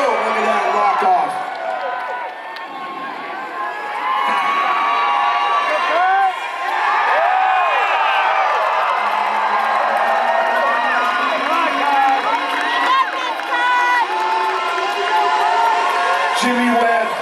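A large crowd at a Psicobloc Masters deep-water climbing competition roars, whoops and shouts continuously for climber Jimmy Webb, loud and sustained with excited voices and an announcer talking over it.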